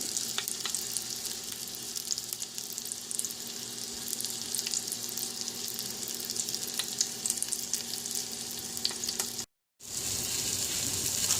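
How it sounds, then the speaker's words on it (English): Pork roast searing in an Instant Pot makes a steady, close sizzle that runs unbroken and fairly loud. It drops out in a brief silent gap near the end, then the frying hiss resumes. "What we want to do is get this good and seared."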